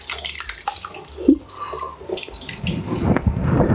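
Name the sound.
pasta sauce being poured into a baking dish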